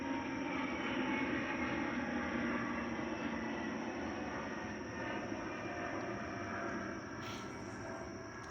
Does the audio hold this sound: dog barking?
no